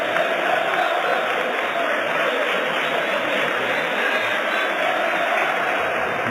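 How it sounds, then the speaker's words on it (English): Crowd applause at Stamford Bridge football stadium during a Chelsea versus Manchester City FA Cup match forms a dense, steady wash of clapping and crowd noise. It is even and sustained, with no clear break. "the applause has started to ring around Stamford Bridge"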